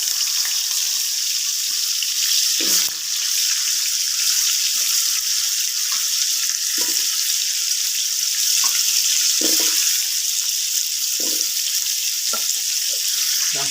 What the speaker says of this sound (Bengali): তেলটা গরম হয়ে গেলে এখন আলুগুলো দিয়ে দিই